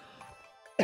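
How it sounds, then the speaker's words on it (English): A single sharp cough bursts out near the end, loud and close, after a stretch of quiet. "I have to cough."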